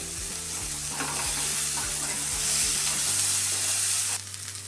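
Green peas being roasted in a pan for kachori filling hiss and crackle steadily while being stirred with scraping strokes, close and alone, until the sizzle suddenly drops near the end.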